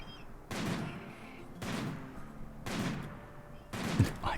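Sniper rifle shots in Rimworld, four evenly spaced cracks about a second apart, faint and distant with a short tail after each one.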